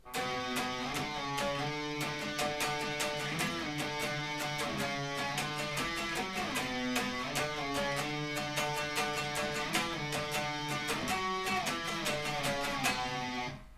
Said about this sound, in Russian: И вступление на второй гитаре звучит так.